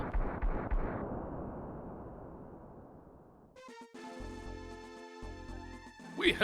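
A video game explosion in Breath of Fire: a loud burst that rumbles and decays over several seconds, followed by a shift into tonal game music and effects.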